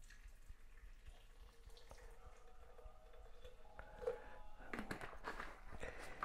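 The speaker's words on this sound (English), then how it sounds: "So I'm going to pour it very, very slowly." Liquid trickles slowly, building into a gurgling pour toward the end, quiet and close, with a few faint drips and clinks.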